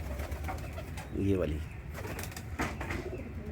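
Pigeon, a female kept beside bamboo clamp gear, gives a short throaty coo in the middle, close by, while someone speaks briefly over the background.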